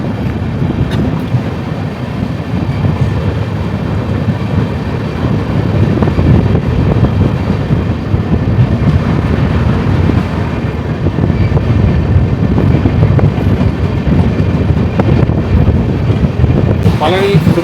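A Mangalore-bound express train rolls through Pollachi station on the Palani–Udumalai line, a steady, loud rumble of wheels and carriages with wind buffeting the microphone throughout.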